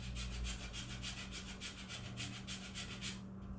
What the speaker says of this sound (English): go ahead and start running that against your grater